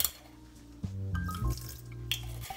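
Small splash of white wine poured onto an egg yolk with sugar and a pinch of salt in a kitchen bowl, a short trickle with drips and clinks, fairly quiet, over a low steady hum.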